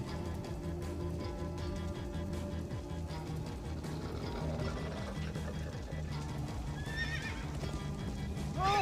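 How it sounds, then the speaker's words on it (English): Horse in Minecraft Story Mode whinnies and neighs while hooves clip-clop at a steady gait, the sound fairly soft under an ongoing game mix, with a rising neigh near the end. "Slow down, horse!"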